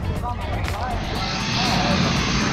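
An airplane engine drones steadily and loudly nearby before a tandem skydive, a continuous broadband roar with no pauses throughout.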